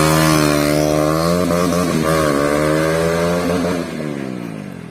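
A bike's engine revs hard and close during a wheelie stunt at a Vishwakarma Puja gathering, holding a loud, steady drone with pitch wobbles before easing off near the end.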